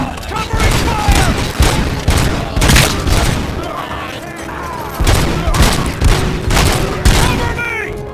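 Sustained bursts of gunfire from the RoboCop: Rogue City video game, loud and near, with rapid volleys and booming shots repeating across the clip amid shouted voices.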